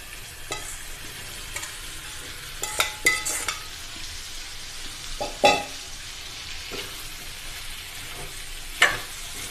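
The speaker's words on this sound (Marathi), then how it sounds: "हे जे रोस्टेड केले होते फ्लावर जे मिक्स भाज्या रोस्टेड केले होते मी आता त्याच्यात टाकणार" Roasted cauliflower and mixed vegetables tossed into a hot pan, a steady close sizzle of frying with several clattering stirs and scrapes from a spoon, no voices.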